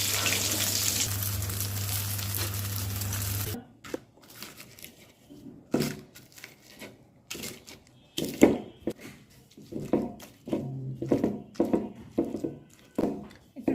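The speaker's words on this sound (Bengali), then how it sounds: "শুকনো মরিচটা ভেজে নিয়ে পেঁয়াজটা ভেজে নিই, কিছু রসুন আর পেঁয়াজ দিয়ে দিব।" Dried chili, onion and garlic frying in a pan for a smoky eggplant bhorta, a loud steady sizzle at first, then clattering, stirring and intermittent crackles in bursts.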